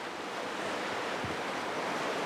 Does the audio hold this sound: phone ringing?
no